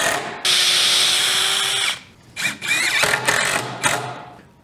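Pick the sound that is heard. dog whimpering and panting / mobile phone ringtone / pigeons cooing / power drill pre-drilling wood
power drill pre-drilling wood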